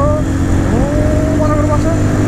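Motorcycle riding along a hilly highway in the rain, its steady low engine drone running continuously beneath a rider's talking.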